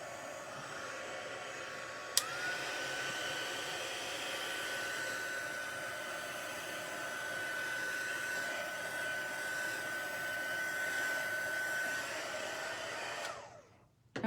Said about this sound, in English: we'll just take the heat gun again, and we'll dry this